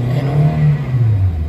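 A Toyota Avanza engine with low power and delayed throttle revs up to about 4,000 RPM, a loud, steady, close mechanical drone that rises and then settles slightly, with no talking.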